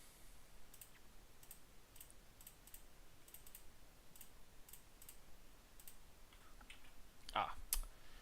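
Rapid, faint computer keyboard clicks and typing taps run steadily throughout during a session of the sword-fighting game Hellish Quart, with a sharper burst of clicks near the end.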